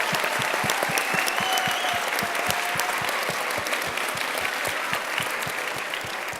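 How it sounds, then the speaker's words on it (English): Audience applause at a STEM education event, dense sustained clapping that stays loud and even throughout, slightly thinning toward the end. "Let's give all three of them a first round of applause."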